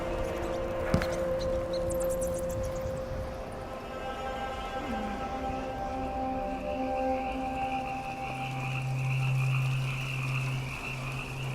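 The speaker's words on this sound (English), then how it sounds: "That's a lot of frog noises." Frogs croak in a steady overlapping chorus within the ambient soundscape of Dishonored: Death of the Outsider, a layered mix of sustained tonal calls and low throaty croaks that swell louder toward the end, with no talk.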